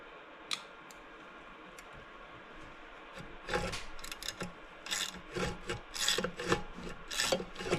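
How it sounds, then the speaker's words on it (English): A screwdriver works a points cover screw on a 1929 Maytag model 92 washing machine engine, producing close, repeated scraping and rasping bursts of metal grinding that start after a quiet stretch and continue in an irregular rhythm. "We're gonna try out my new screwdriver that I bought at the auction too."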